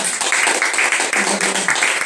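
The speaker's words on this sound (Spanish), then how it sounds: "Vamos a darle un aplauso al Señor." A church congregation claps together in praise, a dense, steady wash of hand claps filling the room at close range, with some voices mixed in beneath the applause.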